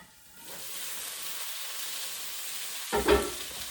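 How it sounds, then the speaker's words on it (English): Potatoes, bell pepper and tomato stir-fry in a pan with a soft, steady sizzle that builds after a quiet start, then a short louder clatter of stirring near the end. "I'm going to go ahead, turn it, stir fry"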